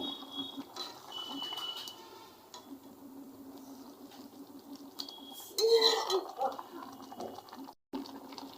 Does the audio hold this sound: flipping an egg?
yes